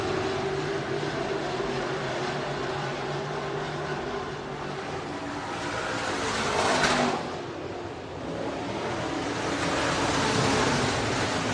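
Modified race cars lapping Buena Vista Raceway, a steady broad engine roar from several cars with one pass swelling louder before easing back into the continuous field noise.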